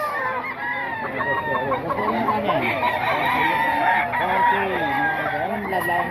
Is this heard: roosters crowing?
yes